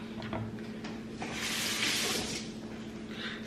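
Cheesesteak ingredients are rinsed under a running kitchen tap, a steady rushing splash of water that swells in the middle and continues nearby and moderately loud, with a few faint clinks early on.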